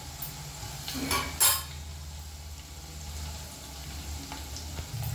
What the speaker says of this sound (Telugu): బఠానీ వేసేసుకున్నాను అట్లా ఉల్లిపాయలు బఠానీ కొంచెం ఫ్రై చేసుకోవాలి